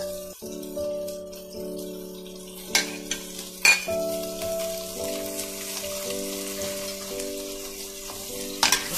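An egg fries in a hot pan for a stir-fry with lotus stems and cabbage, giving a steady close sizzle with a few sharp spatters, over a sustained tonal hum from the stove or kitchen.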